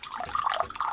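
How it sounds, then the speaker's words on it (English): Wine poured into a glass: a brief, close, gurgling liquid pour with a bright splashy texture, lasting under a second and heard alone. "Pour that vino, baby."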